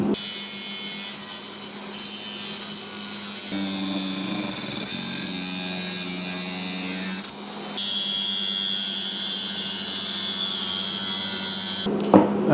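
Power tool cutting sheet metal for a floor pan on an older Dentside Ford truck, a steady loud high-pitched grinding whine running almost continuously, with brief pauses and a change in tone partway through.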